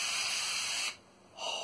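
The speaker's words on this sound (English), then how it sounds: "spray your bread pan" Two close hissing bursts of an aerosol oil spray into a bread pan, a long one and then a short one after a brief pause.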